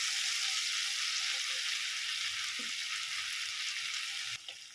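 A spice paste for mustard pabda fish sizzles in a pan with a steady, soft hiss. A brief clatter comes near the end.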